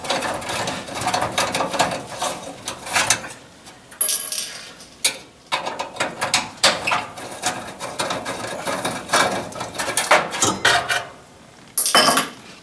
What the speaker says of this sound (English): let me take these screws out of here